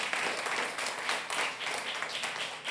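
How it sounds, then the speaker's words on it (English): An audience gives a steady, fairly loud round of applause at the close of a talk by journalist Dan Gillmor on journalism, misinformation and centralization. The clapping swells and dips slightly without any pause. "let's have a big round of applause"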